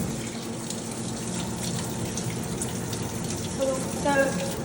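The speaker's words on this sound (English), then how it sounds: "the machine is sucking the water up from underneath it, as well as it's gonna suck up the shampoo" A pet bathing system machine runs water, a steady near hiss and splash of flowing water with a low pump hum underneath, and a brief brighter gurgle toward the end.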